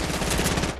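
Rapid game gunfire in Fortnite, a dense burst of automatic shots lasting under a second, loud and close with no talk over it.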